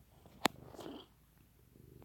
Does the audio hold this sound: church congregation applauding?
no